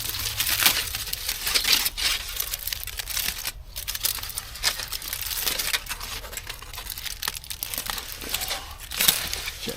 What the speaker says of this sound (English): Double wrap this in foil today because it's quite a juicy steak